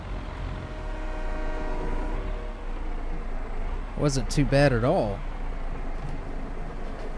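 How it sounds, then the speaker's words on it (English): A train in Farming Simulator 22 rumbles past with a steady droning engine hum, then a loud wavering horn blast midway, while someone speaks briefly over it. "Alright, so the train's going by"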